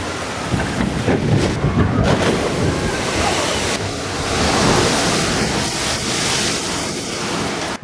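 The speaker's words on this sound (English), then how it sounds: "Not too bad, only a little splash." Open boat on the Splash water ride at Duinrell amusement park rushes through water, a loud continuous wash and slosh of spray and waves close by, with wind buffeting the microphone throughout.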